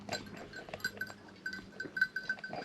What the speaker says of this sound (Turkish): şurada koyunlar var